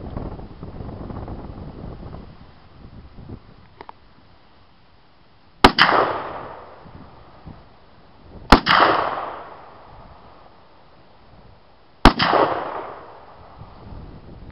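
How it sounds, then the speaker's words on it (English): An SKS semi-automatic rifle in 7.62x39 fired three times at an outdoor target, each shot a sharp loud crack followed by a rolling echo. The shots are spaced a few seconds apart, with quiet wind noise between them. "Pop off a couple rounds and see if we can't hit the target."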